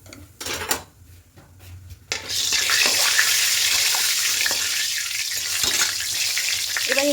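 Potatoes frying in hot mustard oil with salt and turmeric for chicken biryani: a steady loud sizzle sets in after a couple of seconds of scattered kitchen clatter and continues close and unbroken.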